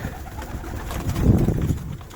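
Low, soft cooing of Viennese pigeons, a murmuring rolling call that swells in the middle and fades, close by with no talking.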